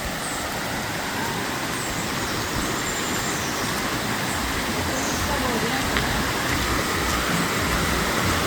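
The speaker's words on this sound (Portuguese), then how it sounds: "Olha o barulho da água aí." Small waterfalls on the Guaxinduba river at Canta Galo roar as a dense, steady wash of falling water, loud and close throughout, with no clear talk over it.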